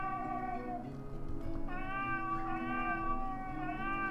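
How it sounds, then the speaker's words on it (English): A golden cat in a video game gives a series of meows, several bright wavering calls in a row, close and prominent over background game sounds, with no talking. "that's the golden cat"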